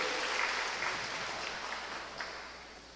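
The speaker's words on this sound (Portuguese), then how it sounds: "Pode aplaudir ao Senhor." A church congregation at a worship service applauds, a soft, diffuse patter of many hands that fades gradually, heard from a distance without talk.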